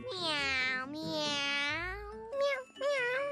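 Cartoon characters meowing like cats, two long drawn-out voiced meows followed by shorter ones, clear and close, a voice imitating cats rather than real animals.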